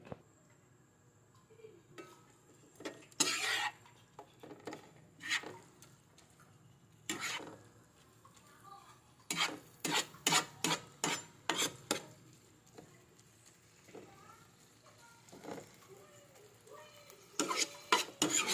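Adobong talbos ng kamote, sweet potato leaves in adobo with chili, stirred in a pan, giving sharp intermittent scrapes and clinks of a utensil against metal over a soft sizzle, in quick bursts with pauses.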